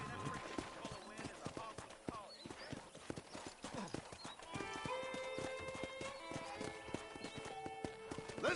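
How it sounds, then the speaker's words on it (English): Horse hooves clip-clop in Red Dead Redemption, a quick, irregular run of hoof strikes with a neigh, heard close under game dialogue and faint music. "I picked out a fine horse for you."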